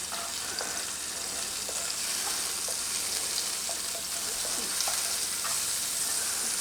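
Green chillies and garlic sizzle and fry steadily in a hot pan, a close, continuous crackle with faint stirring scrapes throughout.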